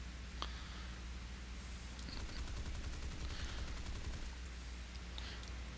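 Machine guns on a Tempest Mk V fighter plane fire in War Thunder as a brief rapid rattle of shots, heard faintly under a steady engine and wind drone during a steep dive.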